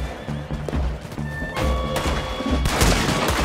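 Gunfire in Red Dead Redemption 2 comes as several sharp shots spaced across the clip, louder toward the end, over a busy game soundscape with horse sounds mixed in.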